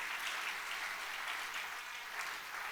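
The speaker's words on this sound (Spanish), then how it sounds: "Dale ese fuerte aplauso al Señor." Steady, even applause from a church congregation during a worship service, continuous and somewhat distant throughout the clip.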